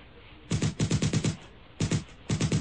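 Loud automatic gunfire in a Friday the 13th video game rips out in two rapid bursts of rattling shots separated by a short pause, with a third burst starting at the end.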